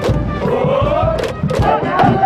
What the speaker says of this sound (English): The stands are filled with supporters whose cheering incorporates regional flourishes.